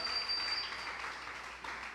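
Church congregation applauding during a Saturday service, a soft, steady wash of distant clapping that holds throughout and fades slightly toward the end.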